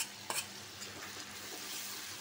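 Shrimp sizzling as they hit a pan of fried spiced masala for a taro curry, with a brief clink and steady stirring over a continuous hiss.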